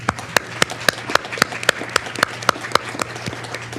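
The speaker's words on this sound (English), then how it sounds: "Let's give them another round of applause" Applause from a board of education meeting audience, a thin room of claps with distinct sharp individual hand claps standing out at an irregular rhythm, moderately close, with no talking over it.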